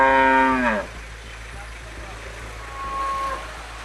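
A cow moos loudly and close by with a long, falling call, and a fainter second moo follows later. The animal is one of the cattle at an animal market, where there are reports that cattle are water-injected to add weight before sale.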